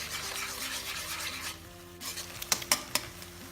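Two eggs go into a frying pan and get stirred while making egg fried rice, with a steady sizzle under a background hum and a few sharp scraping knocks of a utensil against the pan near the end.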